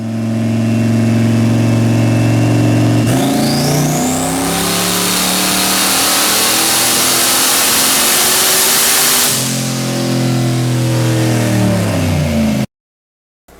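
A car engine on a dyno, running 19 degrees of timing with leaner fuel, idles loudly, then revs hard up to about 5,800 rpm and holds there before dropping back to a rumbling idle and cutting off abruptly.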